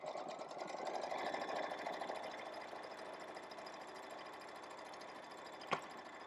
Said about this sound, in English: we are now going to stitch our first placement line for our fabric